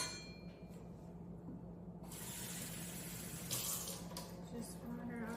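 A cup of water is poured into a pot on the stove for a chocolate cake, a soft splashing pour, faint and brief, with a quiet kitchen hum beneath.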